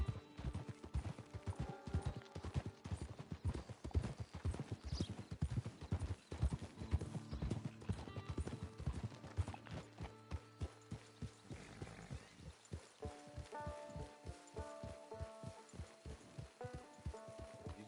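Horse hooves clip-clopping in a steady rhythmic gait while riding in Red Dead Redemption 2, close and even, with occasional game sounds and a brief slowdown midway.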